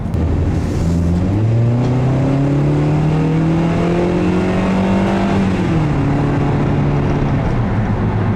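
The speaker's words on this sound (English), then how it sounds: "there's quite a bit of engine and exhaust noise" A 2014 Ford Transit Connect van engine revs up loudly with droning exhaust, pitch climbing through the gears, then easing off; close and continuous, no talking.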